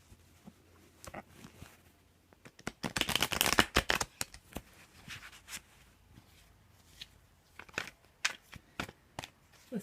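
A deck of tarot cards being shuffled by hand, with bursts of riffling and flicking, loudest in a dense flurry partway through, then lighter scattered card snaps, close up with no talking.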